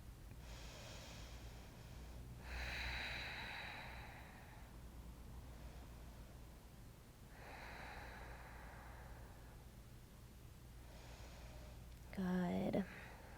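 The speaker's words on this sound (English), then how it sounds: "We've got 3 deep breaths here." Slow, deep breathing during a gentle yoga class: a few soft, drawn-out inhales and exhales over a steady low background hum, with a brief louder breathy sound near the end.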